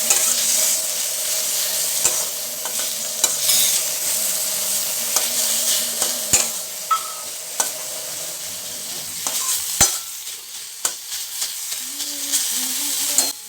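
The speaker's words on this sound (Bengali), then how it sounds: "এই পেঁয়াজটাকে ভালো করে ভেজে নিতে হবে।" Chopped onions and onion paste fry in mustard oil in a kadai, a steady sizzle broken by repeated scraping stirs and clicks of a spatula against the pan.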